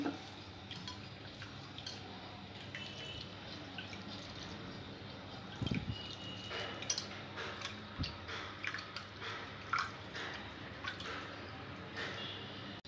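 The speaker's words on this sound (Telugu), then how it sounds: "పప్పు వేసుకున్న తర్వాత 2 టైమ్స్ వాష్ చేసుకోవాలి." Red lentils are swished and rinsed in water in a bowl, giving soft, quiet sloshing and dripping with occasional light clinks and squishy handling noises.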